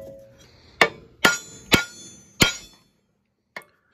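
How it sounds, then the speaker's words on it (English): Sharp metallic hammer blows on a pressure bolt of a tool pressing out a seized CV axle from its hub, four in quick succession then two more after a pause, ringing briefly against metal, close and loud. "striking it with the hammer"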